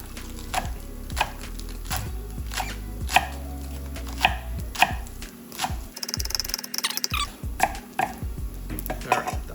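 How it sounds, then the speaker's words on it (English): A kitchen knife finely chops green onion on a cutting board for a yakisoba garnish, with sharp, close taps in quick bursts and irregular rhythm, broken by a brief pause before the chopping resumes. "just really finely chop up this green onion"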